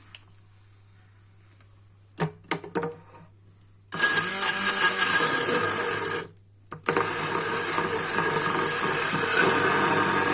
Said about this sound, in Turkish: 2 bardak ve blenderdan çekiyoruz